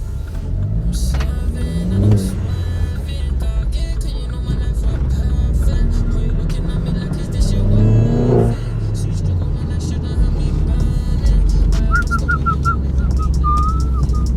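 A forged Vauxhall Corsa VXR engine pulls and revs during a drive, with two rising accelerations around the opening seconds and again mid-clip over steady road and engine drone; a voice speaks briefly over it.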